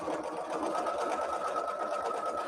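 A sewing machine stitches a quilt seam, its steady rapid motor whir and needle clatter running continuously at moderate volume, close by, with no talking.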